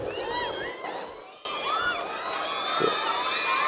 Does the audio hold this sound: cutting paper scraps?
no